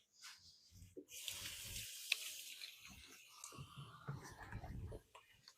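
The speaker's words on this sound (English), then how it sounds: "I'm going to give my hands a quick wash to get off a little bit of this green" Tap water running into a sink as hands are washed, a close, soft gushing splash that starts abruptly and continues for several seconds, with faint movement and rubbing sounds.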